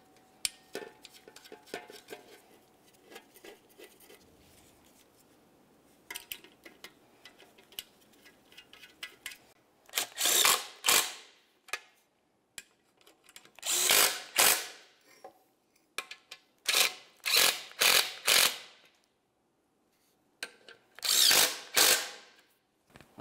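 A hand ratchet threads in exhaust pipe mounting bolts on a 2011–2018 Volkswagen Jetta. Quiet clicking and fiddling give way to loud, close bursts of rapid ratcheting clicks, repeated several times with short pauses between them.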